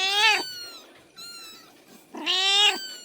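Two drawn-out cat meows, close and fairly loud, separated by a softer, fainter mew, set in a home where a mother cat tends newborn white, blue-eyed kittens.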